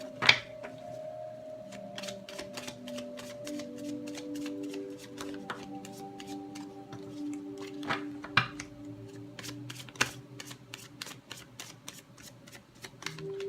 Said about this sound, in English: 3 shuffles for Virgos who have chosen deck 1.